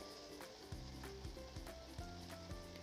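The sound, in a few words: cooked dry beef sizzling in masala pan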